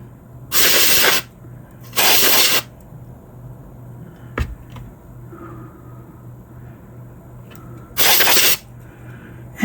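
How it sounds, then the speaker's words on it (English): Three sharp aerosol bursts of electronic contact cleaner sprayed onto the chassis of a tube radio during recapping, each hissing for roughly half a second, close and loud, with faint clicks between. "so I'm using electronic cleaner on it"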